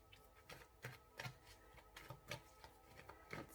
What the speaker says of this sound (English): Let's shuffle this deck for another message.